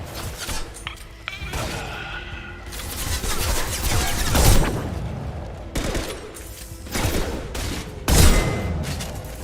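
Rifle fire in the Mass Effect Legendary Edition video game: repeated bursts of loud gunshots with crashing impacts and booms, dense and close across the whole stretch, with no talk over it.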